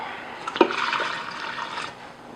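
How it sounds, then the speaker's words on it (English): Two cups of water poured into an Instant Pot holding a vegan red lentil curry with sriracha, a short close splash followed by a steady gushing pour that tapers off after about two seconds. "And finally, I'm going to add 2 cups of water."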